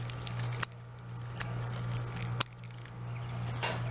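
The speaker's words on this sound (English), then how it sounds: "cut off the roots" A few crisp, isolated snips as the roots are cut off a garlic bulb, quiet and close, separated by pauses over a faint background hum.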